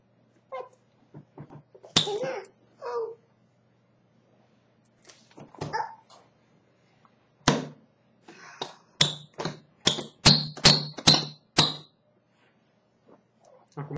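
A toy Thor hammer is banged in bursts of sharp plastic taps and slaps, some single hits and a quick run of strikes near the end, close by in a quiet room.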